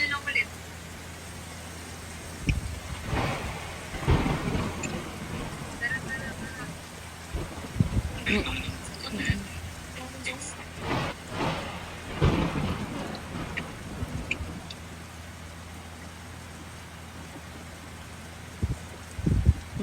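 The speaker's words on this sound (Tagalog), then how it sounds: "Ganda ng pakulan ng kulog" Thunder from a Roblox game rumbles in several heavy, rolling bursts over steady rain, with a few sharp cracks scattered through; people talk at times over the storm.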